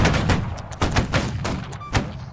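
A ragged musket volley from a line of infantry in the video game Holdfast: Nations at War, several loud, close cracks overlapping in quick succession over about two seconds.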